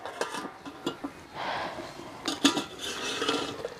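Chicken curry being stirred in a pot with a spoon, then covered with its lid: scattered metallic clinks and scrapes, with a sharper clank midway, close and fairly quiet, without talking.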